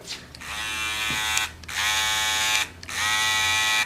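A Babyliss Gold FX electric hair clipper buzzes steadily in three bursts, briefly cutting off twice in between, loud and close.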